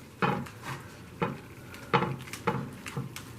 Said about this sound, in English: I'm just going to mix it all up and add a little butter and add a little vanilla.